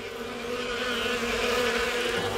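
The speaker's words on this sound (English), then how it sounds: "It sounds like something buzzing." Bees buzz in a loud, continuous drone that holds steady and close for the whole moment, a thick insect hum with slight wavering in pitch, in a children's cartoon scene.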